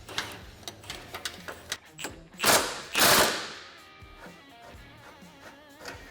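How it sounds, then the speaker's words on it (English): Nuts being taken off radius arm bolts on a Polaris RZR XP 1000 with a hand tool, a string of close clicking ratchet bursts and metallic clanks, with a louder clattering handling noise in the middle. "We'll start by removing all the nuts off of all the bolts."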